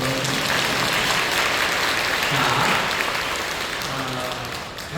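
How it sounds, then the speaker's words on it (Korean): A church congregation at a Korean worship service claps for newly baptized members, a full, sustained round of applause that swells mid-way then eases slightly, with faint voices beneath. "네, 박수 주세요."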